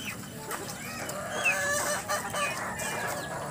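Chickens cluck and squawk inside a coop, with several overlapping calls and short sharp cries rising over a busy rural background at moderate distance.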